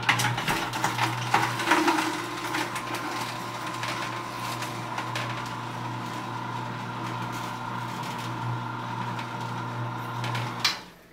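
Juicer machine working through pre-cut beet greens and carrots gives a steady mechanical motor hum with a low grinding drone, opening with a few clunks and clicks and continuing evenly until it cuts off near the end.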